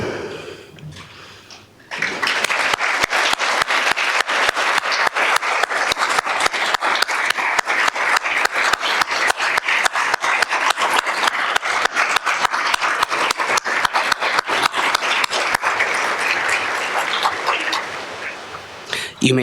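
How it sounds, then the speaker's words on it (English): An audience at a nursing college scholarship and alumni awards ceremony gives a loud, sustained round of applause for donors, dense clapping that starts abruptly after a brief spoken line, holds steady for about fifteen seconds, then tapers off. "If you could stand, we'd love to give you a round of applause."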